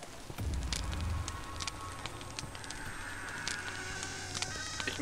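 Fire crackles and burns steadily inside the horror video game Devour, a dense, close hiss with scattered sharp pops, layered with faint other in-game noises and no talking.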